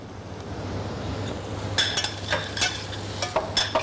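Spinach is stirred in a pan over a soft background sizzle, with a quick run of close scraping and clinking strokes in the second half.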